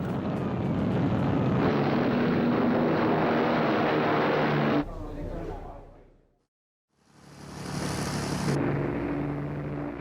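Propeller-driven World War II British bombers drone loudly in a sustained roar, the engines cutting out abruptly midway before the heavy rumble swells back up.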